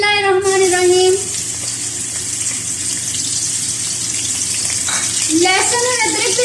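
Onions sizzle steadily in hot oil in a karahi, a constant frying hiss that carries on throughout, and a voice can be heard at the start and again near the end.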